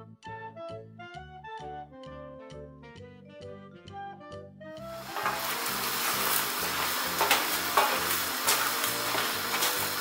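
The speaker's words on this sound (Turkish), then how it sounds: "Arkadaşlar önce tavuk göğsümüzü tenceremize alalım ve suyunu salıp çekene kadar kavuralım." Chicken breast sautés in a pot, a dense continuous sizzle that starts abruptly partway through, while a plucked melodic tune plays throughout.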